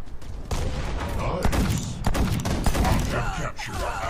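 Continuous machine gun fire and thudding shots in the mobile shooter Guns of Boom, loud and close, with overlapping bursts through the whole stretch.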